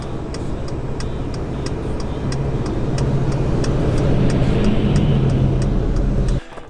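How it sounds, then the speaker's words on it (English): Heavy trucks rumble past on the gravel Dempster Highway, a loud broadband roar of engines and tyres on gravel that swells steadily over several seconds and then cuts off abruptly near the end. "There's 2 big trucks coming with big plumes of dust."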